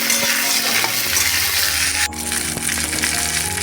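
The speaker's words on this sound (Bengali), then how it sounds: "আদা কুচি রসুন কুচি এগুলো ভালো করে ভেজে নিয়ে কেটে রাখা ক্যাপসিকাম আর পেঁয়াজ দিলাম" Chopped capsicum and onion frying with minced ginger and garlic, a loud, steady sizzle with stirring scrapes. A brief gap is followed by renewed hissing.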